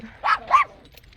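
Two quick, high-pitched puppy barks or yips, close and distinct, sound in a desert setting. The second follows about a quarter second after the first, then all goes quiet.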